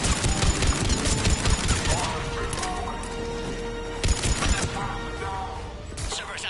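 Dense bursts of rapid gunfire and metallic clatter rage during a heavy attack in the video game Mass Effect, loud and close, with sustained volleys broken by brief lulls and crashes.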